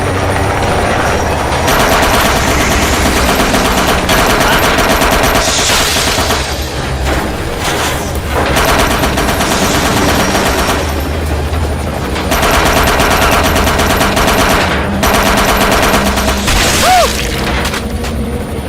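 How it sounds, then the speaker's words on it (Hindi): Machine gun fire from a helicopter in a movie action scene: continuous loud rotor roar with rapid bursts of automatic gunfire and booms running throughout, no speech. "मैं उस पर फायर करने वाला हूँ। कैप्टन, हेलीकॉप्टर को चारों तरफ घुमाओ।"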